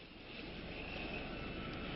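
A surveillance plane flying over missile installations makes a steady, distant engine drone that swells slightly and holds, with no talk.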